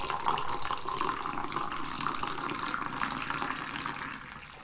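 Tea pouring into a cup, a steady liquid stream running close by for several seconds, loud and even, then easing off toward the end, with no talk over it.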